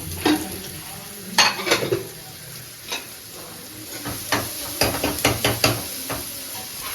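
Oil sizzles and crackles in a pan as a tempering is made for saag, while a utensil scrapes and clinks in bursts, close up and fairly loud, with no talking.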